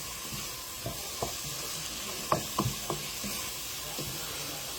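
Spices sizzle in hot oil in a soup pot for a beef and bean soup: a steady, moderate frying hiss broken by several sharp knocks and clicks of stirring, with no talking.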